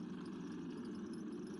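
Roller tamper compactor engine running steadily at raised RPM, a continuous low droning rumble with vibration, loud and close with no pauses.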